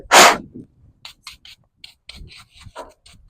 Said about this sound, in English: I just go through and use like a little soft bristle brush to just get the extra little hairs out of it